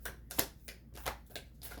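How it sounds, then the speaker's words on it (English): Oracle cards being shuffled by hand, the stiff deck giving a few quiet, uneven riffling bursts and soft slaps spaced through a short stretch, close up with no talking. "These are really hard to shuffle."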